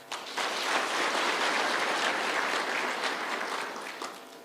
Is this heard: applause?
yes